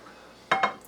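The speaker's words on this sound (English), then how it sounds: "It's a beautiful little skillet, 8 inches." A small 8-inch blue speckled enamelware cowboy skillet gives two quick metallic clunks as it is handled, close and brief after near silence.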